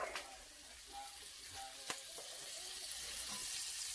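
Butter melts in a hot pan for pork sisig, giving a steady hissing sizzle with faint crackles and a single soft tap, close by and without talk.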